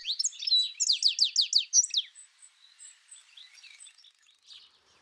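A goldfinch sings in a garden, a rapid run of bright, tinkling twitters and trills at close range, then softer scattered chirps trailing off with no other sound.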